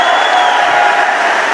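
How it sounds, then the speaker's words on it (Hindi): An audience at a business recognition event applauds a speaker's mentor with a dense, sustained roar of clapping mixed with crowd cheering, loud and close throughout. "मैं चाहूंगी इससे ज्यादा जोर से ताली बजा सकते हैं आप मेरे मेंटर के लिए"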